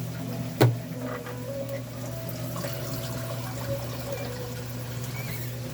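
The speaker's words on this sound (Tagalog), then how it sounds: "Add tayo ng konting tubig mga idol." Water is poured into a pot of cooking adobo: a sharp click, then a soft, steady liquid trickle under a low background hum, fairly faint and close.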